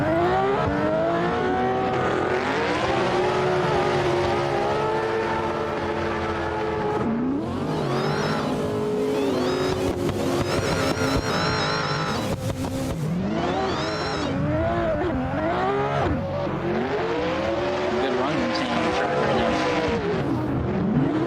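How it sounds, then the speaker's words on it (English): Race cars at a drift competition at Rockingham rev hard and scream around the track, engines rising and falling in pitch with bursts of acceleration and tire squeal, loud and continuous, with faint voices underneath. "Let's turn the volume up here a little bit for the live stream to hear some raw audio of the cars here"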